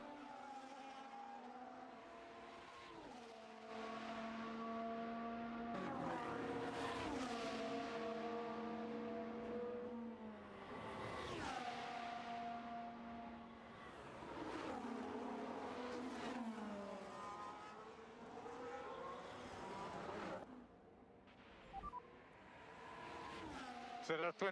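Formula One cars run at practice for the 2025 Saudi Arabian Grand Prix, with engines rising and falling in pitch through repeated high-revving sweeps and gear changes, heard faintly and at a low level.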